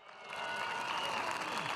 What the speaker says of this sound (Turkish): Bir kocaman alkış alalım.